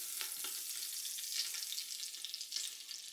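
Butter melting in a hot Instant Pot gives a soft, steady sizzle and crackle, fairly quiet and continuous, with a few faint stirring scrapes.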